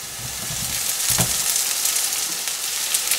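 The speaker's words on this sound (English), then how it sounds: "Now drop all the pieces of vadas to this oil." Vada pieces fry in hot oil in a pan or dosa tawa for a vada curry, giving a steady close sizzle and crackle with a brief louder burst early on, with no talking.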